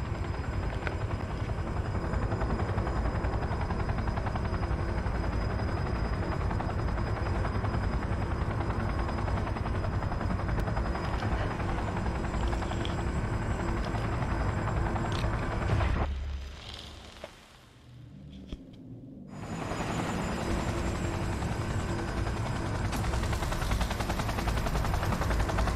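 Heavy rotor and engine roar of an aircraft lifting off in the video game Cyberpunk 2077, a loud, steady drone that cuts out briefly near the end before resuming at full strength.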